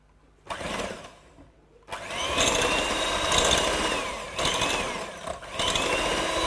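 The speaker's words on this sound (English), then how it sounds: "Okay, so I'm just going to beat that. This is my electric beater." An electric hand beater whips fresh cream with icing sugar in a bowl. After a short start, the motor runs loudly and steadily with a few brief changes in pitch. It is close, and no one speaks.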